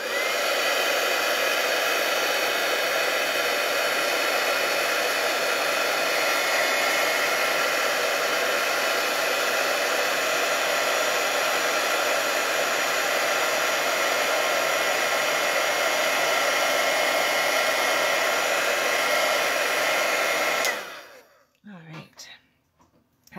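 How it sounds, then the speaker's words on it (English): Heat tool melting embossing powder on a painted poppies card, a loud steady whooshing blower running continuously for about twenty seconds before cutting off, followed by faint handling noises. "we're just going to heat emboss this."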